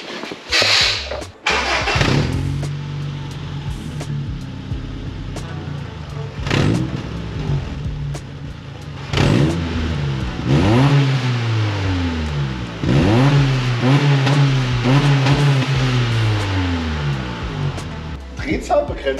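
Honda Civic fitted with a WYLD JDM aftermarket exhaust starts up, then revs repeatedly to around 4,500 rpm, rising and falling in loud close bursts, with someone talking in German between them.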